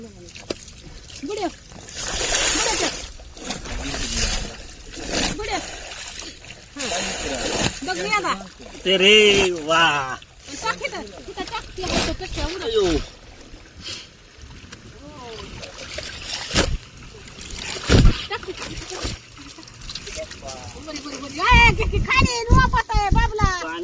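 Water splashes and sloshes around a boat while several people, including children, talk and call out over it.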